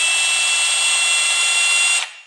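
Milwaukee M12 FUEL 3/8-inch stubby impact driver running in mode 1 with the trigger held fully, a steady high motor whine for about two seconds that then winds down and stops.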